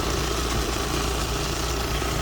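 A Covington 10-inch Vibra Lap polishing a large seam agate with 4670 grit slurry runs with a steady, continuous mechanical hum and vibration, unchanging and alone throughout.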